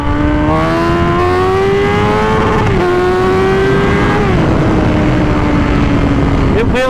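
A 2005 Suzuki GSX-R1000 K5 superbike drones loudly and steadily, its engine note rising with brief dips between gears under heavy rushing wind noise, recorded on board while riding.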